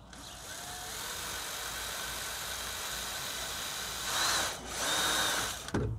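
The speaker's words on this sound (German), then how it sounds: "Bohrer." Electric drill running steadily and close by for several seconds while installing a new OSAGA tube pump at a koi pond, with a brief rise in pitch near the end and no talking.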